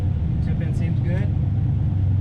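A turbocharged Chevrolet Silverado on a dyno settles to idle, giving a steady low engine rumble throughout while people talk over it.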